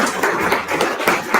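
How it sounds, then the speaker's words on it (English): Dense applause fills a hall at a Slovenian cuisine heritage night honouring the speakers, steady broadband clapping from a seated audience throughout with no pauses. "So please give a round of applause now for our amazing speakers."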